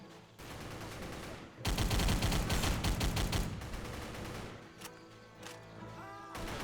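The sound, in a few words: machine gun fire in video game Battle for the Pacific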